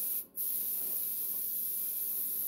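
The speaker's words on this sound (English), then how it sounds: "We're going to spray this stuff." A coating is sprayed onto mini pumpkins in one short, sharp hiss near the start, followed by a quiet room hum.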